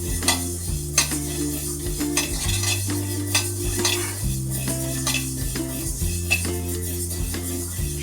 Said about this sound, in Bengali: অল্পই সর্ষেটা খালি নেড়ে নিতে হবে